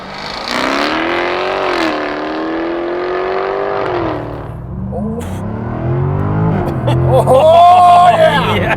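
A 2022 Jaguar F-Type R with a supercharged 5-liter V8 launches from a brake-boosted stop without launch control, roaring loudly as it revs up through rising gear pulls, with a shift and renewed surge toward the end.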